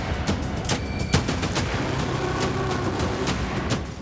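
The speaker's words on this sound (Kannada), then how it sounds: "ಇವತ್ತು ಸಿಎಂ ಸಿದ್ದರಾಮಯ್ಯ ಅಭಿಮಾನಿಗಳು ಪಟಾಕಿ ತಂದಿದ್ರು ಅನ್ಸುತ್ತೆ." Firecrackers set off by political supporters at a public celebration, a dense run of sharp bursts and pops crackling continuously throughout, loud and close with a heavier bang near the start.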